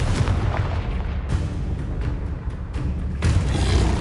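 Repeated booming blasts from the Confringo fire spell in Hogwarts Legacy, heavy low explosions with a sharp new burst about every second, loud and alone with no talking.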